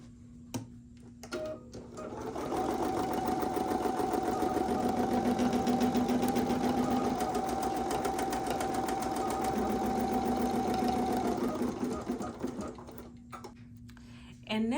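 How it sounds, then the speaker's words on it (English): An embroidery machine stitches a basting box on fabric, a steady close mechanical whir with rapid needle ticking that starts after a couple of seconds and runs evenly for about ten seconds before stopping. "I want to baste and then sew the tack down stitch for the fabric."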